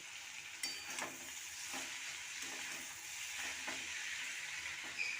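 Washed kulekhara greens are tossed into a pan of frying potatoes and eggplant, oil sizzling steadily with a hissy wash and occasional clicks of stirring, close and alone.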